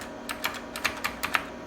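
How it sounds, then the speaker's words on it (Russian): Keys clack on an old 1980s home computer keyboard, about nine quick, crisp, fairly loud presses in an uneven rhythm over a quiet background. "Если клавиатура сильно шумит, просьба не обижаться, она довольно старая и на тишину не рассчитана."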